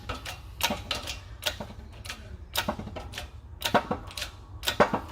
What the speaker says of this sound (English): gonna go ahead and just keep pressing the bearing in